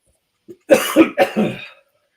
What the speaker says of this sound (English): we'll just get a cough instead